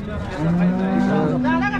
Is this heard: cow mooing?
yes